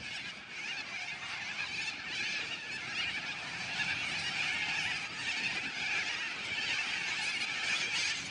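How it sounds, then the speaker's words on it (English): A large flock of white parrots screeches near the water at Rockingham, Point Peron: a steady, dense wall of harsh squealing calls that stays loud and continuous throughout, with no talking. "I saw white parrots, millions, thousands of them."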